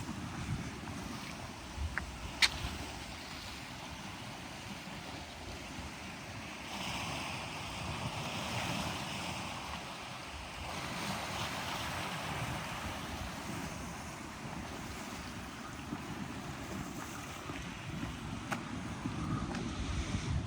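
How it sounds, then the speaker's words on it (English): Sea waves along the Greek coast, a constant low wash and rumble of surf with gusty wind noise on the microphone, broad and steady throughout with a brief sharp click near the start. "I love that sound of the waves."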